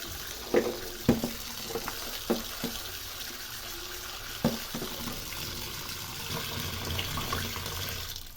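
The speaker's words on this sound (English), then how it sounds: "Then I'm going to run some cold water on it." Cold tap water runs and splashes steadily into a sink over drained spaghetti, with a few knocks and clatters of the spaghetti shifting in a colander near the start.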